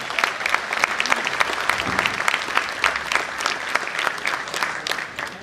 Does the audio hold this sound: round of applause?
yes